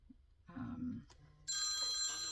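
A mobile phone starts ringing partway through with a loud, steady electronic tone right after a person talks nearby, sounding close and continuing to the end.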